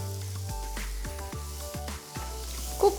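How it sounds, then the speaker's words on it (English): Finely chopped capsicum for pav bhaji dropped into a hot pan of spice powders, a steady close sizzle and frying hiss running throughout with no voices over it. "now I'm going to add 1 large capsicum that's been finely chopped"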